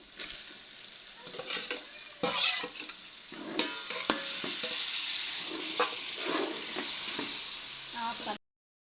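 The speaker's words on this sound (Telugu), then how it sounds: "నెక్స్ట్ టమాటాలు యాడ్ చేసి టమాటాలు కూడా బాగా ఫ్రై అవ్వాలి." Tomatoes fry with masala in a pot for chicken dum biryani, a steady sizzle broken by repeated scraping and stirring strokes from a spoon, with faint clinks of utensils.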